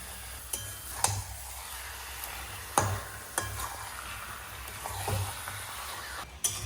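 Chicken curry with pre-fried potatoes being stirred in a pot: soft simmering sizzle underneath, with several sharp scrapes and knocks of the spoon against the pot at irregular intervals, close and fairly quiet.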